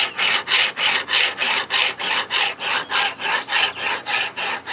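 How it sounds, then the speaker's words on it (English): Knife blade drawn along a Ruixin Pro sharpener stone in steady, even strokes, a loud close rasping scrape repeating about three times per second with no talk. "And then you go to sharpening. And you don't have to use a whole lot of pressure."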